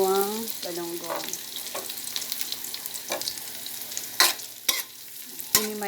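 Sliced galunggong fish sizzling and frying in hot oil in a pan for ginisang monggo, steady crackle with scraping stirs and sharp clinks of a utensil against the pan.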